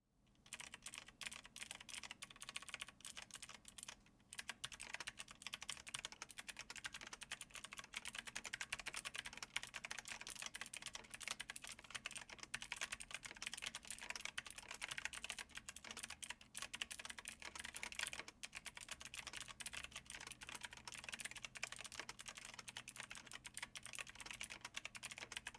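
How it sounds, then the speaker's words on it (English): Fast, continuous typing on a mechanical keyboard with GX Blue clicky switches, a dense stream of crisp clacks with a brief pause near the start, close and fairly quiet, with no talking. "I have their GX Blue clicky switches, so we'll do a sound test so you could hear how they sound"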